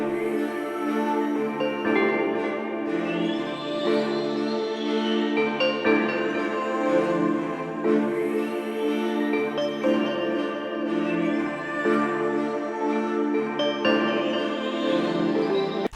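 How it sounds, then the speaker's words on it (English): Calm, vocal-sounding synth from the M1 playing a gentle sustained melody over a quiet B section, smooth and continuous with soft harmonic layers and no talking. "I added this little vocal sounding synth from M1"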